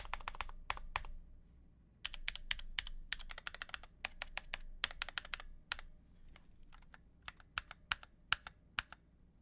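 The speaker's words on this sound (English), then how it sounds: "Can you hear that spring ping?" Mechanical keyboard with Durock POM switches on their stock springs is typed on in quick, uneven bursts of crisp clacks, fairly quiet and close, with short pauses between runs and a possible faint spring ping.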